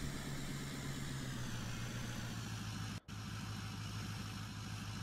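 Tractor engine in Farming Simulator 17 idling steadily with a low, even rumble and constant drone, with one brief dropout midway and no talking.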